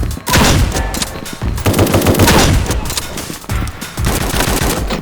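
SPAS 12 shotgun blasts in the tactical single-player shooter A.W.O.L., several loud sharp reports in quick succession with brief pauses between them, close and heavy, with no talking.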